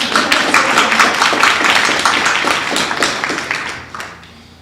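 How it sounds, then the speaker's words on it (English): A school board meeting audience gives a round of applause, dense clapping that holds steady and then fades out near the end. "We can clap for that."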